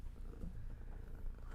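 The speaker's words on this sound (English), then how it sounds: "Hi, kitty cat." A pet cat purring up close, a steady low rumbling throb that continues evenly and softly throughout, with no voices over it.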